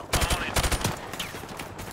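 Call of Duty 4: Modern Warfare gunfire cracks out in a quick rattling burst of close automatic shots, followed by a few scattered, fainter reports as the firing tails off.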